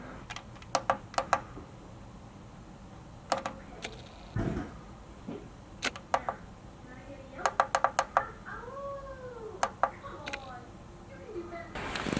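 A Vevor diesel heater clicks sharply through its priming cycle in a garage, giving scattered bursts of quick ticks and knocks between quieter gaps. A whistling, chirping tone sweeps in near the end.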